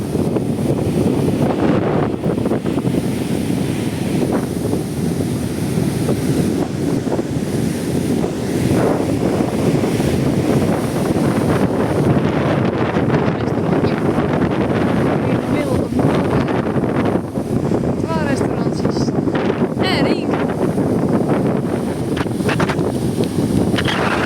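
Strong wind in Mui Ne, Vietnam, buffets the microphone continuously with a rough roaring rush, and faint voices are partly buried beneath it.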